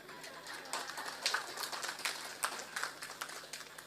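An audience at a religious talk claps in a faint, scattered patter of many hands, fairly distant and steady for a few seconds.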